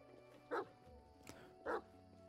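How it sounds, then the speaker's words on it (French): A dog barks twice in the video game Pathfinder: Kingmaker, two short, clear woofs about a second apart over a quiet ambient background. "Un chien."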